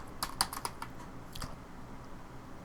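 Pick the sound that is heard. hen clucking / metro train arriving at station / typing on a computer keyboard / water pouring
typing on a computer keyboard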